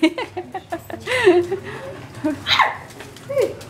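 A few excited dogs yip and whimper in short bursts close by, while people chatter and laugh around them.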